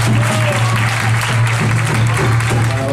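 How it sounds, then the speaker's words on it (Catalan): Crowd applause at a 2014 outdoor concert by a Catalan gralla band, honoring a band member's birthday: dense, loud continuous clapping over a steady low hum, with no let-up. "un fort aplaudiment"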